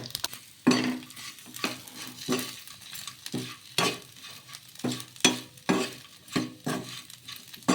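A spoon scrapes and stirs a peanut and sago mixture with coconut powder in a pan, in repeated rhythmic strokes about every half second, close and moderately loud, with no talking.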